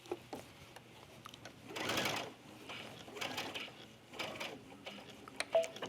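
A sewing machine stitches along a stay-stitching line on a tunic, its motor whirring in several close bursts with short pauses between runs.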